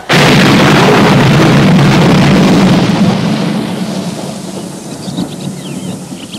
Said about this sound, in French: les fillettes entendent soudain comme un coup de tonnerre